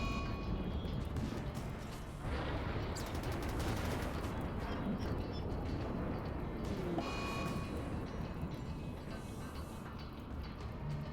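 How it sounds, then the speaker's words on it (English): Large explosion in Rimworld, a dense rumbling blast with crackling, rattling bursts that keep rolling for several seconds, fairly faint overall and without speech. "An even bigger explosion is about to come."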